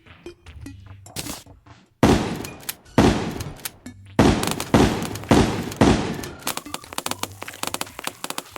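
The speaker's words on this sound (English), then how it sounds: "Fires 4 snowballs per shot, 25 range damage." Snowball Shotgun in the Terraria Tremor mod firing four snowballs per shot: a run of loud, punchy blasts about once a second, with softer clicks and game sounds between them.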